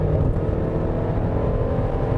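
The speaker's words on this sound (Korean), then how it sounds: "저는 이 엔진 소리 같은 경우는 소리가 꽤 스포티해요" Engine of a 2020 Mercedes-Benz GLC 300 Coupe 4Matic revving, a close, steady mechanical drone with a sporty edge, loud and continuous throughout the short stretch, with no talking.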